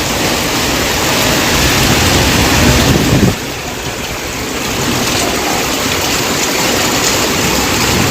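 Torrential rain pours down in Arambagh beneath a blackened sky, a loud continuous hiss that drops abruptly in level partway through, then steadies at a softer roar before building again.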